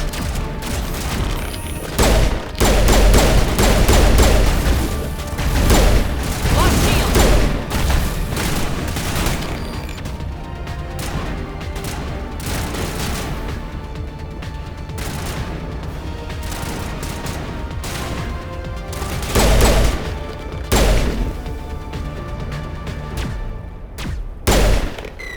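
Dense, loud gunfire from the video game Mass Effect Legendary Edition, with rapid bursts and heavy booms that keep rolling without a break and swell in places, alone with no talk.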